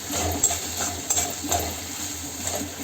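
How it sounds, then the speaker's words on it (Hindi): Nearly softened tomatoes cooking in a pan while a spoon stirs and mashes them, giving a few distinct close clacks and scrapes over a faint low simmer. "चलिए थोड़ा सा मसल देते हैं ताकि अच्छे तरीके से टमाटर मिक्स हो जाएं।"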